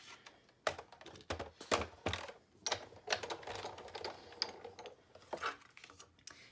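A die-cutting machine runs paper through with a framelit die on a magnetic platform, giving a steady series of close clicking, ratcheting knocks at an even pace.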